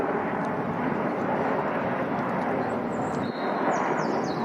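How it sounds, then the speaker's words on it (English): A plane flies over Windsor, England, a steady broadband jet roar that stays loud and constant throughout, with faint outdoor ambience beneath. "Every 30 seconds there's a plane flying over Windsor."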